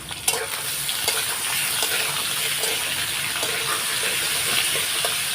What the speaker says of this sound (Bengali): আলুগুলো আমি লাল লাল করে একটু ভেজে নেবো